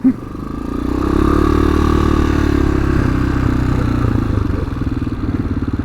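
A TaoTao TBR7 and a Yamaha FZ6R motorcycle pulling away, a close, loud engine drone that builds and holds steadily, with faint clatter and no speech.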